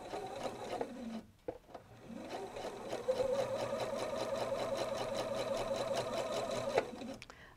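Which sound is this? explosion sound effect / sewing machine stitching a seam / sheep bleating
sewing machine stitching a seam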